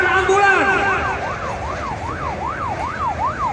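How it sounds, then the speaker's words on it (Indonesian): Ambulance siren wailing loudly and close, its pitch rising and falling in a steady repeating sweep, at a horse race in Central Aceh where a riderless horse is running loose, with crowd and road noise beneath. "Tolong beri jalan ambulan itu."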